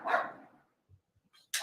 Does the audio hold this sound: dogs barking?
yes